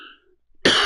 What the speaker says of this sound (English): I'm gonna cough in your face.